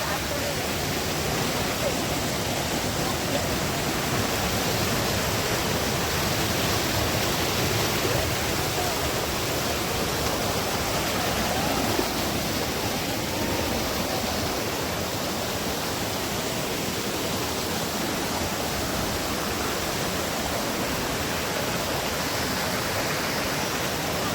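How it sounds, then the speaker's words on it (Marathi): A waterfall near Karnala fort plunges over steep rocky cliffs, producing a steady, dense roar of falling water that stays loud and close without a break for the whole stretch. "बघा वरून एकदम कठीण कातरकडे आहेत आणि त्याच्यातून कोसळणारा हा धबधबा"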